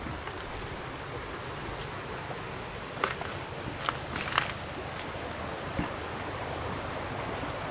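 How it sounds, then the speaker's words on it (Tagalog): A stream flows steadily in the outdoors, a constant broadband rush of running water with a few faint knocks and taps breaking through around the middle. "Ito yung sapa na dinadaluyan ng tubig"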